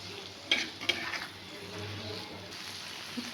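A spice mixture sautés in a pan for an okra dish, giving a quiet steady sizzle with two sharp utensil clicks near the start and soft stirring scrapes.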